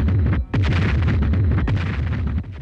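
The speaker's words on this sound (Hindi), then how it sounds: "फिर वही ब्लास्ट।" Loud, continuous explosion blasts from a TV superhero show, a dense run of heavy booms with a brief dip before the rumble resumes and carries on.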